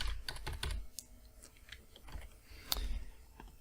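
Computer keyboard typing in a series of quick, close, clicky keystrokes with short pauses between bursts and one sharper key hit near the end, heard alone at a low level.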